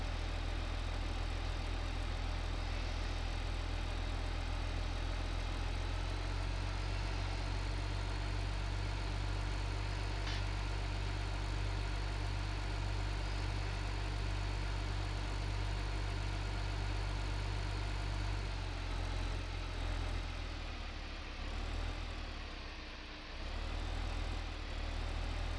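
Tractor engine in Farming Simulator 15, driven without a front counterweight, running as a steady loud low idle-like drone that dips briefly near the end.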